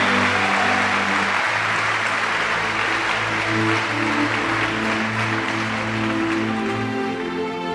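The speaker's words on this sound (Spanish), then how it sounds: "Dale un fuerte aplauso a Dios." A church congregation breaks into loud, sustained applause, with dense clapping that holds steady and fills the room. A sustained musical tone runs underneath.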